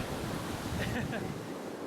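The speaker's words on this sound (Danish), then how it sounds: "Men der er i hvert fald rigtig gode bølger her." Surf rolling in at Bondi Beach in Sydney, a steady broadband wash of breaking ocean waves with wind buffeting the microphone, continuous and close throughout.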